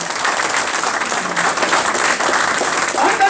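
An audience at a Nigeria Civil Service Union award presentation to the SMEDAN director-general claps steadily, the dense applause filling the room evenly from start to finish with no voices over it.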